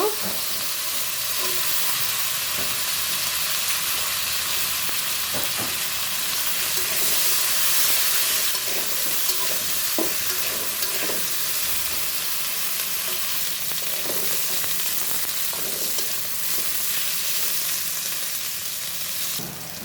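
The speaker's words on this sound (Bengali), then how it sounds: "আলু আর সিমগুলো সুন্দর করে ভেজে নিব" Potatoes and flat beans frying in a pan with cumin, a steady loud sizzle and hiss running throughout with occasional stirring clatter.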